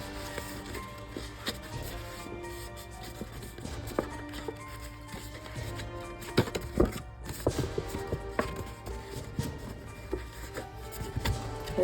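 A tool scores crease lines into a paper treat box with scratchy strokes and small taps, mixed with irregular knocks and handling noises at close range.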